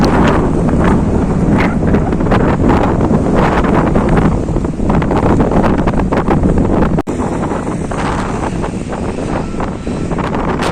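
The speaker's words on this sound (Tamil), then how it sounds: "பயங்கரமாக சாண்ட்ஸ்டார்ம் அடிக்குதுங்க" Strong sandstorm wind in the Dubai desert near Maleha town, roaring and buffeting loudly against the microphone in a continuous rough gusting rumble, easing slightly after a brief dropout.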